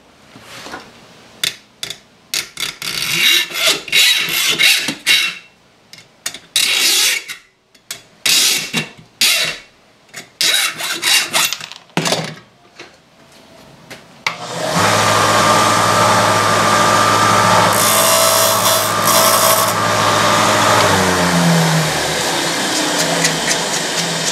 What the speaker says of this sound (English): So I'm going to saw this off